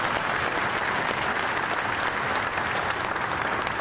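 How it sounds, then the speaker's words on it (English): Steady, dense audience applause from a large crowd, heard alone at moderate volume without a break from start to finish. "round of applause"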